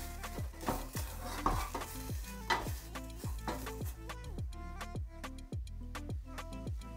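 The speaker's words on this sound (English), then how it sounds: "Cook it all together, make sure it's all mixed in the sauce and it's cooked through" A wrap filling is stirred through sauce in a pan, with repeated scraping and clinking strokes from the utensil over a steady low sizzle, the stirring continuing in an irregular rhythm.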